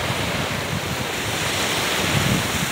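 Ocean waves break and wash onto the beach at Long Beach Island, a loud, continuous roar of surf mixed with wind buffeting the microphone, with no voices.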